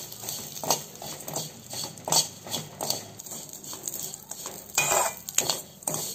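A metal spoon stirs vermicelli frying in a little ghee in a pan, making irregular clinks and scrapes against the pan over a faint sizzle, close and moderately loud.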